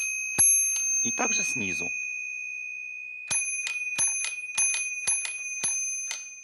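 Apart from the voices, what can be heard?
small hammers striking bells inside a Saratov accordion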